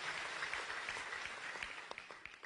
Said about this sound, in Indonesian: Tepuk tangan sekali lagi buat Tuhan Yesus.